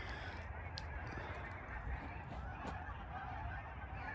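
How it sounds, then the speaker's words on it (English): A large flock of geese honks outdoors at a cold winter campsite, with overlapping distant calls spread through a constant low rumble of ambient noise. "There's a ton of geese out here."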